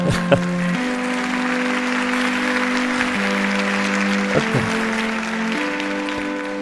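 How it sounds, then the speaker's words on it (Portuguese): Applause from an audience at a talk, honoring a team: a steady, dense wash of clapping that fills the whole stretch, with a sustained tone running underneath. "uma salva de palmas para essa equipa toda"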